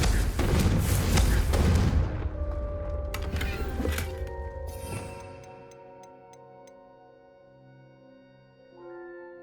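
In Hogwarts Legacy, a Confringo fire spell goes off as a loud, dense blast with crackling booms for about two seconds. It then tails off into ringing tones, soft ticks and quiet game music.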